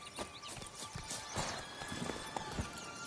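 Roach the horse trots in The Witcher 3, quick hooves clip-clopping in a steady rhythm at moderate distance, fairly faint under soft game ambience.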